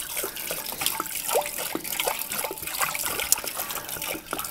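Tap water runs into a home-brewing kettle for heating extract beer, a steady splashing trickle with small drips and gurgles, close and fairly quiet.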